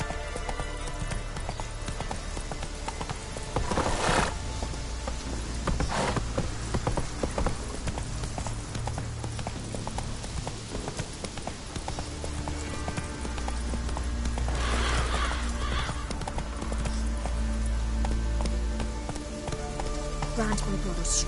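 Roach, the horse in The Witcher 3, moves at pace with rhythmic hoof clip-clops over a continuous game ambience and music bed, with a few louder bursts along the way and no speech.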